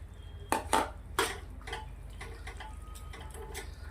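A spoon clanking against a pan while mixing a Rajasthani wedding-style cucumber curry with crushed black pepper, kitchen king masala and green peas, a few sharp metallic knocks early on, then faint scraping and light taps.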